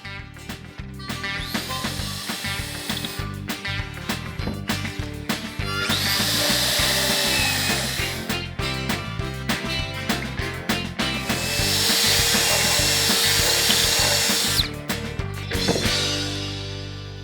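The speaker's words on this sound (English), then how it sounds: "Now we've got the holes drilled." A power drill bores holes through a wood board, its motor whining in two long sustained runs between bursts of short trigger pulses and clattering handling, loud and close with no speech.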